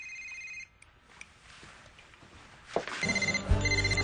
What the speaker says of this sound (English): that phone isn't going to stop ringing until you do.